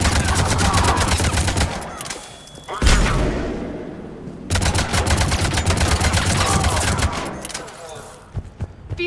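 Rapid bursts of automatic gunfire in Mass Effect 3, dense fusillades with a booming blast in the middle, loud and close, and a voice speaking briefly under the shooting.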